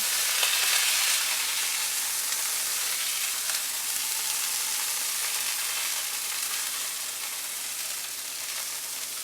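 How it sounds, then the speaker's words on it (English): Pork meatballs cook in a hot pan with a continuous, even, bright sizzle that holds steady at close range, with no voices over it. "So we're just letting that cook with the heat of the pan."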